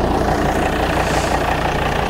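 A Volvo XC90 D5 R-Design's 2.4-litre five-cylinder turbocharged diesel idles up close. Its loud, steady low rumble carries an even diesel clatter throughout.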